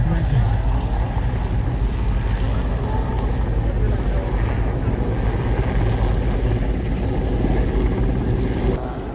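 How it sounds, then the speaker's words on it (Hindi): A navy helicopter circling overhead drones loudly and continuously during a search at sea, its rotor thrum filling the air without letup. "ऊपर से हेलीकॉप्टर जो है वो सर्कल में घूम रहा है"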